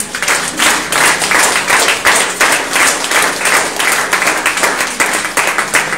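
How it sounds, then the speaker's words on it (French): A church congregation at a Sunday worship service applauds steadily and loudly, a dense wash of many hands clapping with quick rhythmic pulses and no one speaking over it. "Acclame pour toi."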